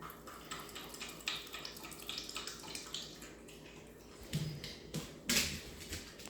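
Water runs and splashes from a tap in a home playroom setting with a three-month-old pitbull puppy, a soft irregular trickle with a few louder splashy bursts near the end.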